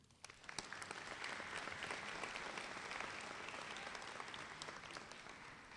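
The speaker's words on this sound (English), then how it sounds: "You may give them a round of applause." An auditorium audience at an alternative learning center graduation breaks into applause, dense clapping rising quickly after a brief start and holding steady, heard from some distance and fairly soft.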